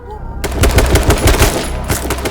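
Rapid automatic gunfire from the H1Z1 battle royale game during a firefight in town: loud, dense bursts of shots that start after a short quiet moment and keep going, close and sharp.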